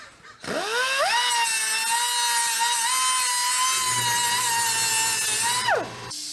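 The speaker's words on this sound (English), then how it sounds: "all I'm going to do is simply lop this off a few millimeters with my die grinder" A die grinder spins up to a high, steady whine while cutting down a tool during timing belt work on a 2006 Volvo S80 T6, loud and close, then winds down abruptly.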